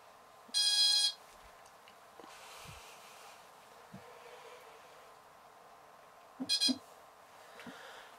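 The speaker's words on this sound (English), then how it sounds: "that concludes system test 7 of my shed's fire alarm system" Shed fire alarm system sounding during a test: a short burst of bright beeping, then quiet background, then a second brief beep burst, faint and somewhat distant.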